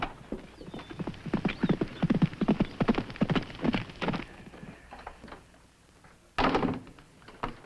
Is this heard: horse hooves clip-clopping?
yes